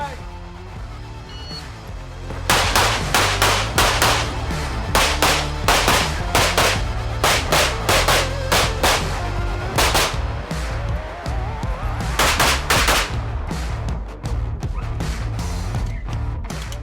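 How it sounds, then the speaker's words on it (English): Rapid pistol shots fired at a USPSA competition, including shots through a hole in a barrier, crack loudly and close in quick bursts with brief pauses between strings. "A lot of shooting in a very short area there."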